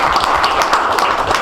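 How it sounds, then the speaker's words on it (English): An audience at a business intelligence forum applauds the panelists with dense, steady clapping that fills the room evenly from start to finish, with no talk over it. "Let's give our panelists a round of applause"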